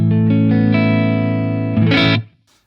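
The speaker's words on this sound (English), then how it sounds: "on the clean setting it really does. So here's the neck," An Ibanez FRM300 electric guitar played through its neck pickup on a clean amp setting, a ringing sustained chord with a changed chord near the end before it is cut off.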